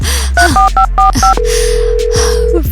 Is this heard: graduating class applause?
no